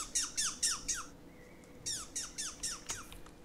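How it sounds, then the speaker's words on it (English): The big squirrel in Squirrel Stapler chirps in rapid squeaky bursts, four quick chirps, a brief pause, then a second run of about six, loud and close. "that's the big squirrel chirping back at me"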